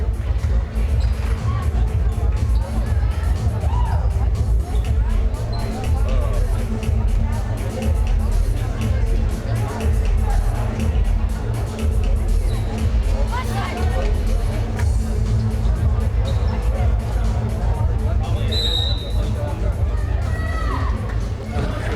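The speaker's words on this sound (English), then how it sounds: "Big crowd from Minneapolis here on this side compared to Sacred Heart on the other side" Crowd hubbub fills a gym at a high school girls basketball game between Minneapolis and Sacred Heart, a steady dense babble of many voices with occasional shouts and bounces, continuous and fairly loud throughout.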